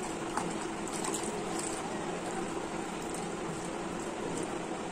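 Water splashing and trickling steadily at close range as a face is washed with water from a mug during a home skin care routine, a continuous wet rush with no talking.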